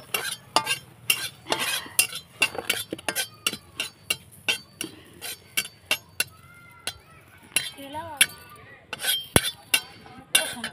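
Red chilies dropped into a hot, still-dry kadhai are stirred and tossed, giving a brisk run of sharp metal clinks and scrapes of a spatula against the wok, close and fairly loud with faint sizzling between strikes.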